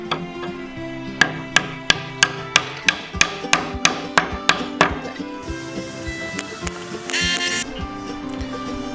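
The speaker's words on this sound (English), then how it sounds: "I'm gonna use my great grandma's hammer." Sharp blows from an old hammer strike in a steady series of about a dozen evenly spaced taps during a camper van build, then softer knocks and a brief scraping sound.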